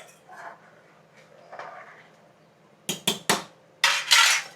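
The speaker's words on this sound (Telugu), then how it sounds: "ఒకసారి ఇంకా కలబెట్టేసుకొని మూత పెట్టేసుకుందాం." A metal lid clanks onto a pot of spinach egg biryani, several sharp rattling knocks followed by a longer scraping clatter, close and loud after quieter kitchen rustling.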